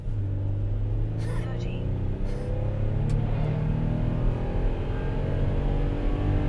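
2008 Toyota Sienna minivan launching hard with wheel spin: its engine roars and climbs steadily in pitch, with sharp bursts of noise early on and voices reacting over the rising drone.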